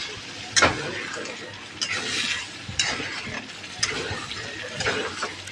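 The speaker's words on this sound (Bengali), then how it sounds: "মশলাটাকে তো আমি প্রথমে একটু মানে হালকা একটু ভেজে নিচ্ছি" Spice paste frying in a pan in a village kitchen: soft sizzling under repeated scraping strokes of a spoon, about one every second, close up with no talk.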